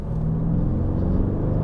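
Mercedes-AMG E63 twin-turbo V8 in sport mode, a loud close low engine rumble holding steady from the cabin, deep and throbbing without clear revving.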